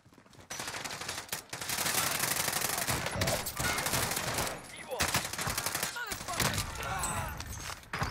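Rapid automatic gunfire from a Warzone match, dense bursts of shots rattling almost continuously, loud and close with brief gaps and a few sharper cracks, while a voice talks over the shooting.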